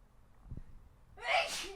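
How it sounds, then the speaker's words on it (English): A single sharp sneeze bursts out after a quiet intake of breath, loud and close. "sorry, I'm gonna sneeze"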